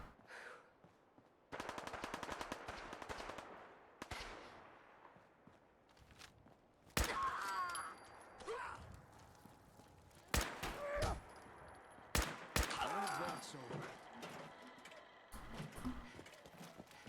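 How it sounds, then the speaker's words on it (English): Bursts of rapid gunfire in the video game Fallout 4 with the Sim Settlements 2 mod crackle and cut out repeatedly amid busy game noise, loud and close, with short quiet gaps between volleys. "Gunfire."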